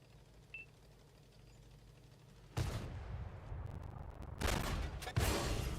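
Rockets fired in World of Tanks burst out after a quiet lull, loud rushing blasts with rapid crackling bursts, then two more sharp launches toward the end.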